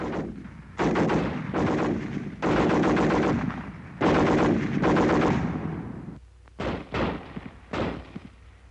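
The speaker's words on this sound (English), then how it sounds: "The BAR, 80 shots a minute." Browning Automatic Rifle firing in a World War II training demonstration: several loud, close sustained automatic bursts of about a second each, then a few shorter bursts, with no voices.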